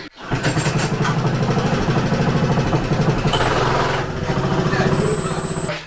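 A motorcycle fitted with a walk-behind tractor engine converted to run on gas catches and settles into a loud, steady, throbbing idle that runs close-up and unbroken until it stops abruptly at the end.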